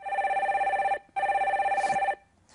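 A telephone ringing on the line while a call is being connected: two long electronic rings with a short gap between them, clear and steady, then quiet.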